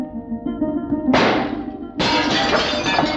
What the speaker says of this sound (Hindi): आप शीशे क्यों तोड़ते हैं?